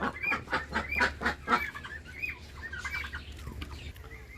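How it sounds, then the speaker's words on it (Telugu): Chickens of different breeds at a mini zoo park in Kothapakonda cluck and squawk close by in quick repeated bursts, with other birds chirping faintly in the background. "అలానే డిఫరెంట్ కోళ్ళు అయితే ఉన్నాయి"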